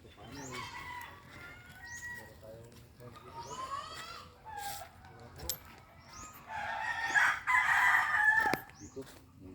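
Chickens cluck and a rooster crows in a small coop, the bird calls fairly close and repeated, with a louder burst of crowing near the end; people talk quietly through it.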